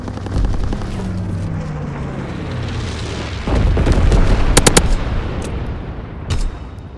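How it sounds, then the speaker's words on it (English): Incendiary bombs fall from a low-altitude bomber in Call of Duty WWII: a descending whistle gives way to heavy booming blasts, sharp gunfire cracks and a roaring rumble, loud and close. "Dropping incendiary."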